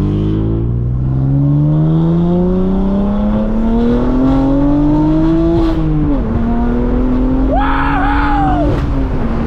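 A BMW M4 fitted with a $5000 aftermarket exhaust revs loudly and steadily, its engine note climbing and dipping, with a burst of crackling pops near the end; the sound is close and fills the whole clip.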